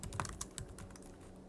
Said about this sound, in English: if we type in our bad input again